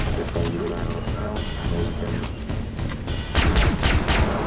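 Laser gun fire in Far Cry 3: Blood Dragon, a rapid burst of zapping shots that grows louder near the end over a busy game background.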